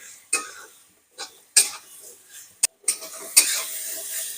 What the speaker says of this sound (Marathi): गिलके टाकले ही परतून घ्यायचे